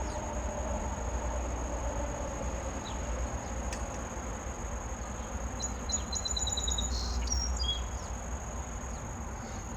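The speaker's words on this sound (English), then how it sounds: "There's a song sparrow singing right there." A song sparrow sings a short, bright trilling phrase in the distance over constant insect chirring and a low background rumble.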